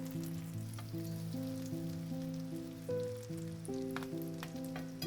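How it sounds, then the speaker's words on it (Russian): Oil sizzles and crackles steadily as zucchini-potato fritter batter with meat fries in a pan over medium heat, close up, with soft background music playing underneath. "Жарим оладьи на среднем огне."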